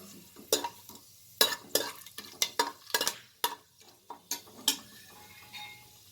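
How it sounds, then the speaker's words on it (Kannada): A spoon scrapes and clinks in a pan while cloves fry in the base for kidney and liver biryani, in irregular sharp stirring strokes over a soft, steady sizzle, close up and with no talking. "ಈಗ ಸ್ವಲ್ಪ ಇದು ಫ್ರೈ ಆಗಲಿ ಒಂಚೂರು."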